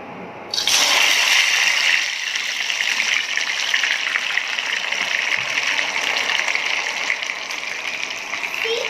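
Homemade French fries dropped into hot oil hiss and sizzle loudly, a sudden steady bubbling roar that holds for several seconds with little change.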